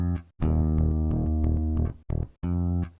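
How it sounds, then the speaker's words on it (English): Two layered studio bass presets play a run of short, punchy eighth notes with deep sustained tones, briefly pausing twice before the pattern picks up again. "so I remade the bass by using 2 studio basses and a synth bass"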